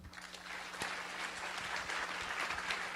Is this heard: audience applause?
yes